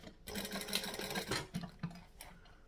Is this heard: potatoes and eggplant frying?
no